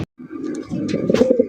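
Racer pigeons cooing close by, a steady run of low throaty coos that swells louder toward the end, with no talk.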